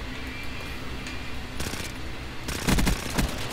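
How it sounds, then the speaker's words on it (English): Gunfire in Call of Duty: Black Ops 3 Gun Game multiplayer, with a sharp burst of shots near 1.6 s and a louder, denser volley toward the end over steady background game noise. "I'm getting shot across the map by a shotgun"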